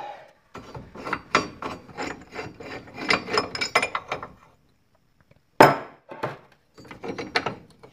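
A ratchet backs off a ball joint press during ball joint replacement on a Jeep Cherokee, giving close, fast metallic clicking strokes in a long burst, a pause, then a sharp clack and a few more short bursts.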